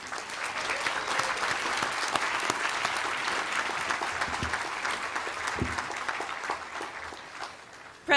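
A crowd applauds graduates at a Pacific University undergraduate commencement, sustained dense clapping that stays strong and even before thinning slightly near the end.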